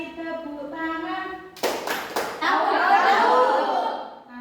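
Children in a classroom sing a clapping song; after a sung phrase, a few sharp hand claps ring out close by, followed by excited chatter and laughter.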